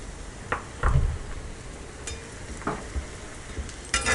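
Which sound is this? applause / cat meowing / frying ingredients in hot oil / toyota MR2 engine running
frying ingredients in hot oil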